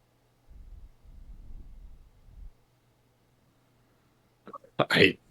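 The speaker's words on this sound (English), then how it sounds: "That's 2 burps on the show" A loud, abrupt burp erupts near the mic during a gaming podcast, following a stretch of low murmuring voices and a brief pause.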